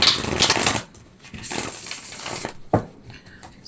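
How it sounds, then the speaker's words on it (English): Wild Unknown tarot cards are shuffled in a few quick, crisp riffles, close and fairly loud, with short pauses between the bursts of papery flutter. "Give these a quick shuffle too."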